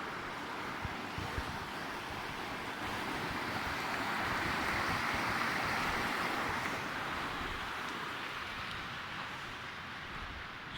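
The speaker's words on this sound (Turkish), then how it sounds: "Derenin suyu aynı şekilde akmakta." A village stream flowing on an overcast spring day, a continuous broad rushing wash of water with some wind noise, steady and moderately distant with no voices.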